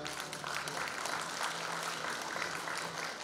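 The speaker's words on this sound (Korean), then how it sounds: "박수 한번 부탁드리겠습니다" An audience at a Korean lawmaker's community report meeting gives a steady round of applause, broad and even, with no talk over it.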